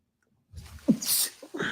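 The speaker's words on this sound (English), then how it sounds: "I usually sneeze." A single person's sneeze, close and sharp, with a short breathy lead-in followed by a bright, noisy burst and a little trailing vocal sound.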